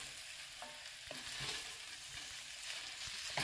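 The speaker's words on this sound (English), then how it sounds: "Now I'm just tossing it around like this gently because I wanna get the garlic off from the bottom." Garlic tossed and frying in a pan, a steady broadband sizzle with soft scraping stirs at irregular moments, close and moderately loud with no talking.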